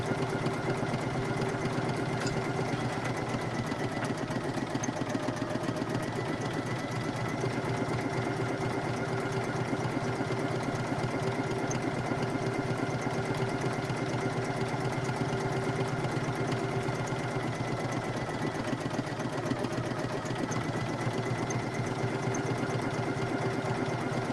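A Poolin EOC06 single-needle embroidery machine stitching a satin-stitch patch, giving a steady, continuous mechanical hum and rapid needle chatter that runs unbroken at an even level throughout, with no voices.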